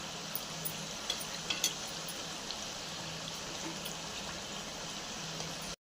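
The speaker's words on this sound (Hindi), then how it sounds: "अब ये पापड़ी हमारी फ्राई हो रही है" Papdi frying in hot oil, a steady soft sizzling hiss with faint occasional pops, close and alone without talk.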